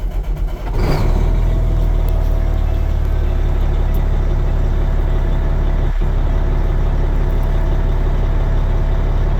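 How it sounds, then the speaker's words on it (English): A semi tractor truck engine cranks and catches, then settles into a steady, loud, low diesel idle while the air pressure builds, with a brief hiss partway through. "Now we are going to fire the truck back up and build up our air pressure."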